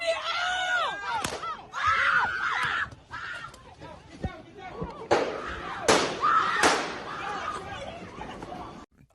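Gunshots fired during a brawl on a New York subway train: several sharp, loud cracks spaced a second or so apart, heard amid screaming and shouting voices in a chaotic, echoing car.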